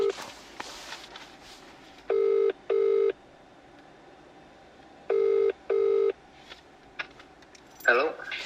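Telephone keypad tones as a number is dialed to call an investor, four crisp beeps in two pairs with a pause between, over faint room noise and brief rustling.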